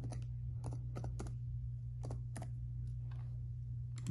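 A computer keyboard clicks in short bursts of keystrokes with pauses between them, close and fairly quiet over a steady low electrical hum.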